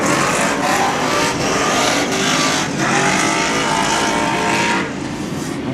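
Superstock race cars at a Wellington superstock shootout, one car running on two flat left tyres, roar past in a dense, continuous wall of engine noise with repeated passing surges and rising revs, loud and close throughout.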